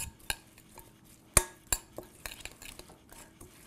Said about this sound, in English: And let's mix that up